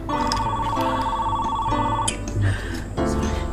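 A telephone bell rings in a steady repeating trill, loud and close, continuing for several seconds with a brief break before resuming.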